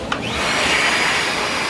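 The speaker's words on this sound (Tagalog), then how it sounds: "Yung purpose po nung blower, pwede mong gamitin sa mga tuyo." A Stanley wet and dry vacuum cleaner runs in blower mode with the hose moved to the rear outlet, giving a steady, close, continuous motor whine and airflow rush that holds throughout, with no talking.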